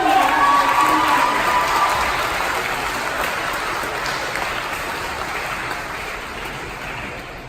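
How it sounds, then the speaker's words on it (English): A large audience applauds and cheers at the closing ceremony of Yale University's Pathways to Science Summer Scholars program. The dense, steady clapping starts loud and slowly fades over several seconds, with no talk over it. "please give a round of applause and a thank you to the family members who are supporting you"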